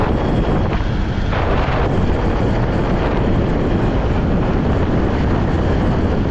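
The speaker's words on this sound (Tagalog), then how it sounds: "kaya pagka medyo humihina yung hangin" Loud, steady wind roaring and buffeting against the microphone, a constant rumbling rush with no break.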